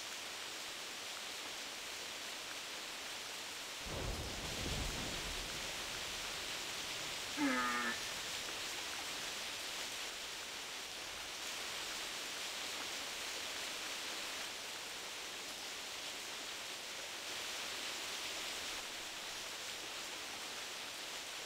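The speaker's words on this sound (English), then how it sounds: "Thunderstorm comes in." A thunderstorm in the hunting game theHunter Classic brings a steady hiss of rain throughout, broken by a brief rumbling thunder crack and a short animal call, with no voices.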